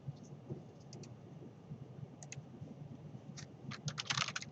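Computer keyboard typing, faint and sparse, with scattered keystrokes that bunch into a quicker burst of clicks toward the end over a low background hum.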